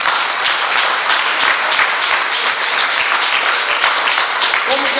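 A congregation at a Brazilian religious service claps loudly and continuously, thick sustained applause throughout, with a faint voice emerging at the very end.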